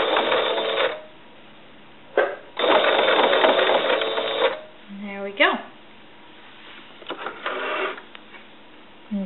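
A sewing machine back stitches a T-shirt seam while making a tote bag, giving close, loud bursts of rapid mechanical whirring, with a long run, short runs and pauses between them, and a voice speaking briefly in the gaps.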